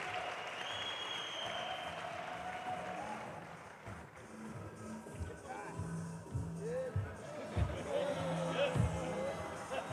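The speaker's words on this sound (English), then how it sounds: "One more time, let's give them a round of applause." Applause for executive mayors at a youth empowerment event, a moderate round of clapping from the audience with voices and movement mixed in, and people talking through it as it goes on.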